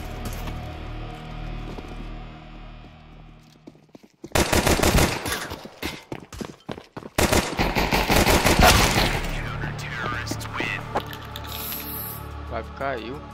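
Rapid automatic gunfire from a Counter-Strike match bursts in loudly after a quiet stretch, with dense volleys of shots continuing over game noise and a talking voice.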